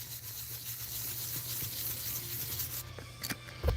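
Metal is buffed in small circles to remove Dremel scratches, giving a soft continuous rubbing and scraping close by, followed by a few brief knocks near the end.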